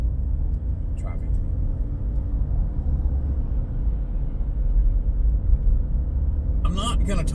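Continuous low rumble of road traffic with cars passing at moderate distance, steady throughout, ending with a brief burst of a voice over the noise.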